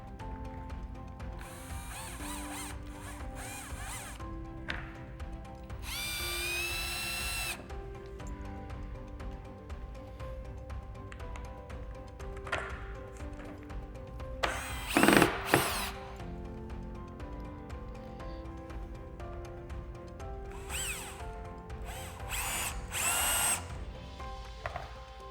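A power drill drives screws into the top of a tank while a tank screen is installed, with repeated short whirring bursts, a louder burst mid-way, and ratcheting clicks between them, close and without talk.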